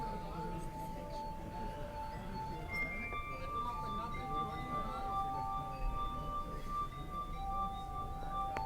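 A glass played as a musical instrument rings out in sustained pure tones that shift pitch across several notes, heard over background chatter and room noise throughout.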